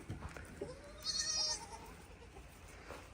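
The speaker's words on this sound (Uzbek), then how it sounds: "mana Afg'oniston qo'ylari, echkilari mana bular" Afghan sheep and goats on a farm give a single quavering bleat at moderate distance, rising out of quiet background noise with faint rustling around it.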